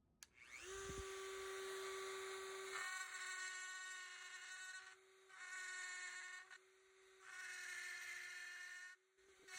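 A Dremel 4300 rotary tool spinning a 561 cutting bit at 20,000 RPM cuts an outline in a carving, giving a steady high whine that runs in three long bursts separated by short pauses, close and alone.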